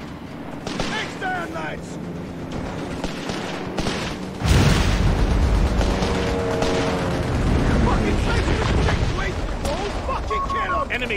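Dense gunfire and explosions rattle through a Company of Heroes 3 multiplayer battle, a constant loud barrage with a heavier blast partway through, while a voice shouts over the combat.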